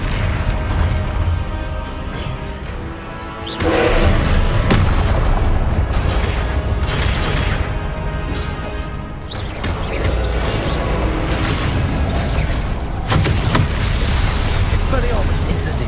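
Fiery Confringo and Incendio spell blasts go off in Hogwarts Legacy combat, loud bursts and booms repeating every few seconds over a dense, busy background of battle noise.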